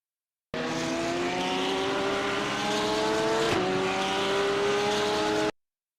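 A McLaren race car engine in a racing game holds a steady high-revving whine with rising harmonics, shifting briefly mid-way before carrying on, loud and continuous, then cutting off abruptly.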